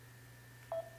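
A mobile phone gives a short, faint electronic tone once near the end, over a steady low hum in a quiet sewing room.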